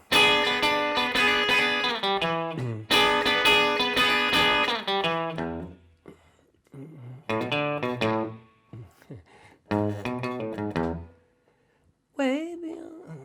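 Distorted electric guitar playing the first verse of a song, strummed chord bursts that stop and start with brief silent gaps, ending on a short bent note, no talking over it.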